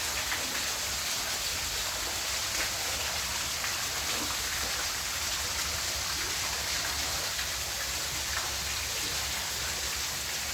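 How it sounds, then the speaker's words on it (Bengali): A waterfall by a lake at a man-made cave in Paris gives off a steady, unbroken rushing hiss of falling water that stays even and fairly close throughout, with no voices. "একদিকে পেছনে ঝর্নার ঝিরি ঝিরি শব্দ"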